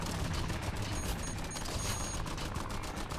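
In the VR shooter Guns n Stories, a held trigger unleashes continuous rapid gunfire, loud and close, a steady stream of shots with metallic ringing accents and no speech.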